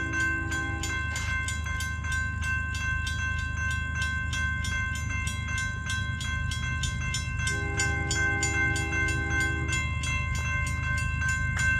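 Union Pacific manifest freight train rolling slowly past a road crossing, with steady wheel clatter and rumble throughout, crossing bells ringing rapidly, and a sustained horn blast near the start and again later, loud and close.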